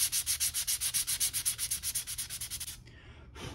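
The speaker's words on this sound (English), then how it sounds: "So I use these little Gator, it's like a Gator grip sander." A Gator grip hand sander rubs back and forth over a 3D-printed crown, giving a fast run of about twenty rhythmic scraping strokes, close and loud, before a short pause and one last pass.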